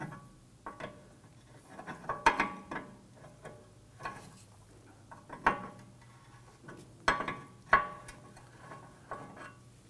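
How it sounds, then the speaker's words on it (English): Ratcheting wrench clicks and metallic clinks while a 21mm nut on a 2003-2014 Volvo XC90's front steering tie rod is loosened, coming in scattered short bursts at moderate distance. "Now this is also a 21mm, so if you have a 21mm wrench, you can loosen that."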